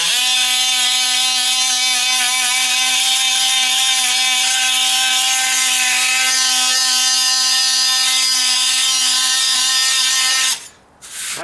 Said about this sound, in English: Here's my oscillating tool, and I'm going to hit the areas where the fix all is still raised.